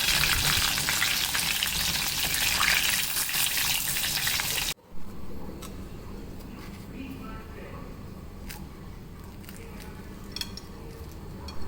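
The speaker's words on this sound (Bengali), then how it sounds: "লো থেকে মিডিয়ামের মাঝামাঝি আছে রেখে একদম ব্রাউন করে ভেজে নিচ্ছি।" Samosas deep-fry in oil over low-to-medium heat until brown, a dense loud sizzle for the first few seconds, then a quieter steady bubbling with faint clinks and a voice over it.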